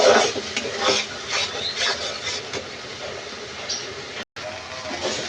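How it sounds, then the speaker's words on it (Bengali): Mustard-poppy masala paste with green chillies is fried and stirred in a pan, a dense scraping, bubbling stir up close with utensil clatter and a brief dropout near the end. "এটা মশলার সাথে এবার ভালো করে কষিয়ে নেব।"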